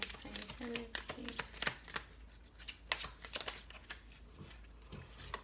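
Tarot cards being shuffled during a reading, a quick run of crisp riffling and tapping clicks at moderate volume over faint background noise.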